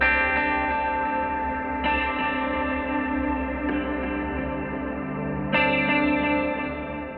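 An oriental-style music composition opens with layered sustained tones rich in harmonics, held chords with drawn-out echo and reverb, swelling back in around the two-second and five-and-a-half-second marks, played alone at steady loudness.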